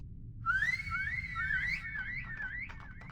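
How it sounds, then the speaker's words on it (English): A video game story character whistles, heard as a wavering, warbling tone of about two seconds, fairly loud and close, trailing off into shorter chirpy blips. "Jun Youngzhe turns around and whistles."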